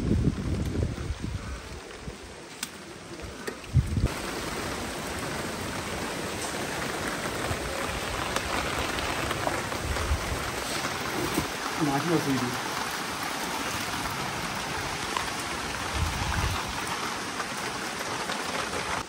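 Rain pours onto a rooftop in a dense, continuous hiss that stays fairly loud and even throughout, with occasional gusty rumble.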